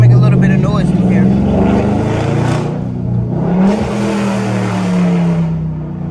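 A widebody Dodge Charger Scat Pack revs close by in short bursts, its engine rising and falling with a deep rumble between pulls.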